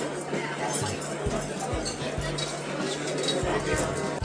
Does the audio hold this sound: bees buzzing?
no